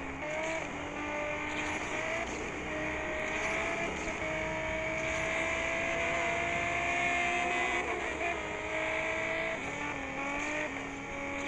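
Infiniti Project Black S race car in Asphalt 8 multiplayer, a sustained game engine tone with rising and falling pitch across the whole stretch, steady and fairly loud, with no talking.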